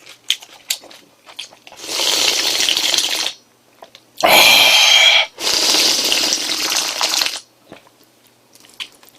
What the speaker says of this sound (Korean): 시원하게 또 국물 한번 마셔야죠